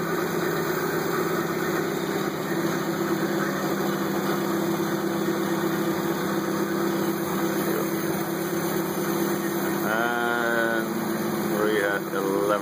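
Engine of a 1955 Citroën Traction Avant idling steadily and close by during a double carburetor adjustment, with a constant hum and a brief rev change near the end.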